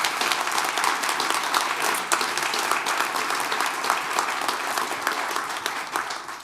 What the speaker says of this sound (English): that definitely deserves a round of applause for the startups